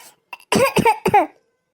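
A woman coughs several times in quick succession, a small cough followed by three harsh, close bursts, with silence afterward.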